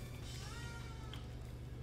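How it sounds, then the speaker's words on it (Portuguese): A cat meows somewhere off in the room, its drawn-out wail fairly faint behind a constant electrical hum and noisy background, with no talking during the call. "E tem um gato ali miando loucamente"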